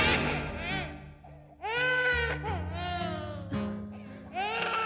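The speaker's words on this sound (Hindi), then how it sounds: "तुमने एक बच्चे के रोने की आवाज सुनी?" An infant cries in loud, close, repeated wails with short breaths between them, over a low steady background hum in a domestic Hindi drama scene.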